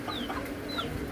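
Chickens clucking in a rural Thai village yard on a rainy-season morning, a few short calls over a steady outdoor background with no voices.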